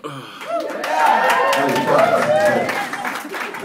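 Audience at a stand-up comedy show clapping in a short burst of applause mixed with light laughter, swelling then easing off, a voice audible over it.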